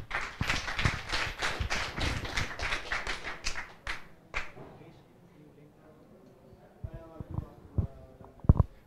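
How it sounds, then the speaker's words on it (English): Audience applause for a speaker at a live crypto event, dense clapping for about four seconds that fades out, followed by a quieter stretch with a few scattered claps and low voices. "So please give him a warm applause."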